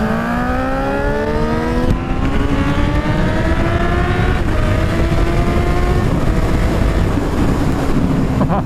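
A 2017 Honda CBR1000RR Fireblade SP1 sport motorcycle accelerates hard in a drag race, its engine note climbing steadily through the gears under heavy wind rush, loud and close.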